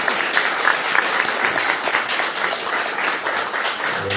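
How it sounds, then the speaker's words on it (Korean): Applause from the audience at a party leaders' meeting in Ganghwa, Incheon: a sustained, even roar of many hands clapping that holds steady throughout, with faint crowd murmur beneath. "김기용 의원님의 통큰 양보에 대해서 큰 박수를 보내주십시오"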